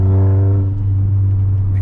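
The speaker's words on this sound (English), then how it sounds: "He has a Volkswagen Jetta, if you guys can hear the turbo, and it's straight piped" A straight-piped Volkswagen Jetta turbo at a car meet gives off a deep, steady droning rumble with a strong low hum that eases slightly partway through, close and loud, with no talking.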